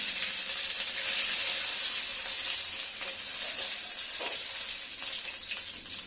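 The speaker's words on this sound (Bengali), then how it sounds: "এর মধ্যে দিয়ে দিলাম আমি তেজপাতা, শুকনো লঙ্কা ফোড়ন, আর দিয়ে দিচ্ছি কিছু 5 ফোড়ন, আর দিয়ে দিলাম কিছু গ্রেট করে রাখা আদা।" Bay leaf, dried chilli, panch phoron and grated ginger sizzle in hot oil for a mung dal tempering, a loud, continuous close frying hiss with faint scattered crackles.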